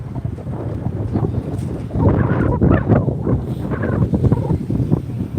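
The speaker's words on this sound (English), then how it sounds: "See, it's windy down here, y'all." Gusty wind buffets the camera microphone outdoors in low, rumbling bursts that strengthen midway and keep going unevenly throughout.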